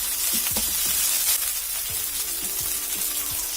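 Ginger and garlic paste along with other spice pastes sizzle in oil for a fish curry while being stirred, a steady hiss with several soft scraping strokes, close and without voices.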